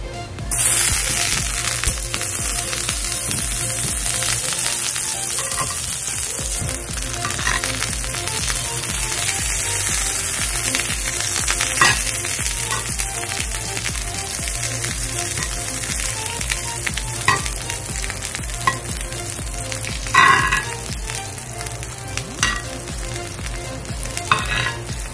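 Butter melts and sizzles on a hot sizzling plate for bangus sisig, a loud, constant frying crackle with scattered pops and scraping throughout.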